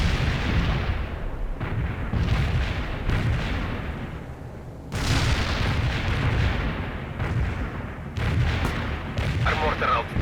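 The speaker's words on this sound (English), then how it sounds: "Barrage hit for full effect." Artillery barrage in World in Conflict: continuous rumbling booms and blasts roll on without letup, loud and dense, with fresh heavy impacts breaking in, and radio-style voices over it.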